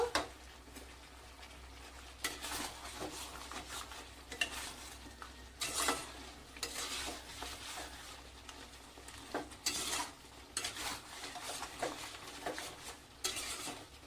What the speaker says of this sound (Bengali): নুন দিয়েও বেশ কিছুক্ষণ কষিয়ে নেব